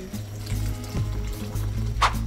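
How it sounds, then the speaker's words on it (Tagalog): Hot water poured into a pan of bihon guisado with banana heart, pork, oyster sauce and soy sauce, a steady watery pour with a light sizzle and a low hum underneath, one brief clink near the end. "mainit na tubig"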